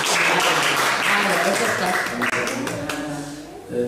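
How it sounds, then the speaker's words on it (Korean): A church congregation bursts into applause, dense clapping that starts loud and thins toward the end, with voices mixed in. "박수 한번"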